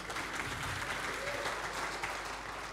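Church congregation clapping hands during a Christmas worship service, a broad wash of many hands applauding steadily at a fairly quiet level, with faint murmuring beneath.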